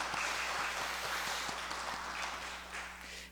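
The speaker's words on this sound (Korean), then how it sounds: "우리 선교사님 감사합니다. 그리고 응원하는 마음을 가지고 우리 박수 한번 하실까요?" A church congregation claps together for a missionary at a Sunday mission service, a dense, steady wash of applause filling the room for a few seconds without any talk.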